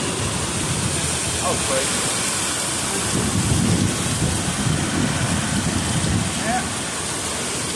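Heavy storm rain with strong gusting wind roars steadily up close, a dense broadband wash that swells slightly midway, while people exchange a few brief words underneath.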